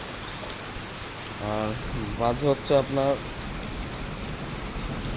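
Heavy morning rain pours down in a steady, dense hiss that fills the whole clip, with a voice speaking briefly over it midway.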